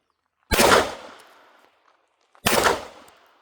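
Two sharp, loud shots from an AKSA Crosfire M-14 .36 caliber air rifle, about two seconds apart, each with a short ringing decay outdoors and no voices over them.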